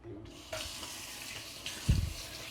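Tap water runs into a kitchen sink while cabbage is rinsed under it, a steady close rush of flowing water with a brief louder splash near the end.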